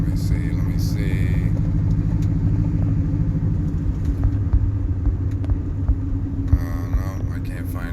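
A car being driven, heard from inside the cabin: a steady, close low rumble of road and engine noise runs throughout with little change.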